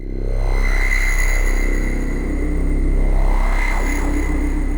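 A sustained, throbbing synth pulse with bright overtones, swelling and washing into a long reverberant tail, loud and steady throughout.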